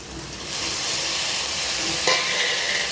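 Steady sizzling of tomatoes and onions sautéing in a pan, a broad hiss that grows louder after a moment, with faint stirring scrapes and no talking.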